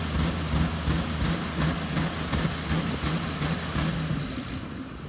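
An old Ford-powered boat motor runs steadily in neutral, a low, moderately faint rumbling drone with slight fluctuations, heard alone.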